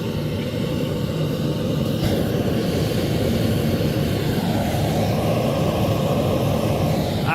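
A propane blacksmith forge burner (VEVOR) roars steadily once its gas valve is cut on, a loud, even, broadband rush that holds without a break for the whole stretch, with no talk over it.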